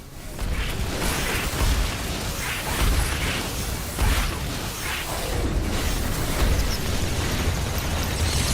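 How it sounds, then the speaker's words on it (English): A building blown apart by an explosion in the base-building action game The Riftbreaker, a continuous roaring rumble of blasts and debris with several heavier booming swells over steady loud noise. "A building has been destroyed."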